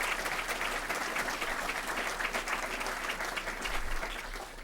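Steady, dense applause from a conference audience honoring a city controller, moderately loud clapping with a faint low hum underneath, easing slightly at the end.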